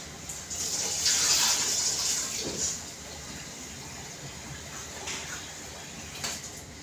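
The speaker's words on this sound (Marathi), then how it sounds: "मी तांदूळ धुवून आता पाण्यामध्येच ठेवते." Rice being washed in water by hand: a swishing, gushing slosh that is strongest early on, then settles into quieter splashes and trickles.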